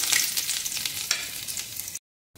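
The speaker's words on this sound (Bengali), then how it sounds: "এবারে দিয়ে দেবো দেখুন ঝিরিঝিরি রসুন কাটাটা" Sliced garlic frying in hot refined oil in a wok, a steady close crackling sizzle with scattered pops for about two seconds before cutting to silence.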